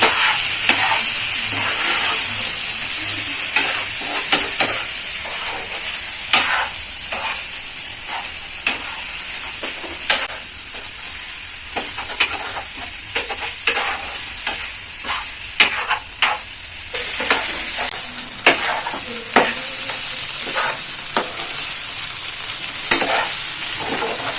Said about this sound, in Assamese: এতিয়া মাংসখিনি 10 মিনিটৰ কাৰণে এনেকৈ ল' ফ্লেমত ভাজি ল'ম।